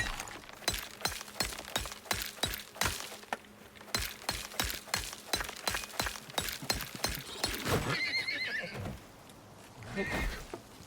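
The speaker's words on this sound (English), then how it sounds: "Bit of a surprise there from a couple of horses." Horses neighing and whinnying in the video game Icarus near the end, following a long run of sharp, rhythmic clopping or cracking sounds.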